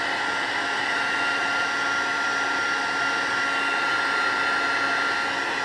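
A heat tool blows a steady, loud whirring roar without pause while drying watercolour paint on a card, close to the microphone, with no voices.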